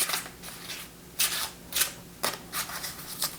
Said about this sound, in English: So we'll do a couple overhand shuffles.